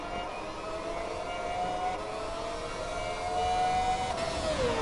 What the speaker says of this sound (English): The cars just sound amazing down around this track though.